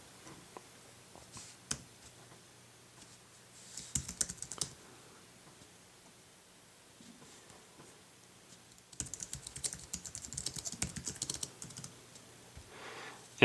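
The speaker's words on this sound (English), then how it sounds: "So you can see the keyboard now works on the iPhone 3G as well." An Apple iPad keyboard dock is typed on in two bursts of quick, light key clicks, one brief and one longer, separated by near-silence and heard close and quiet.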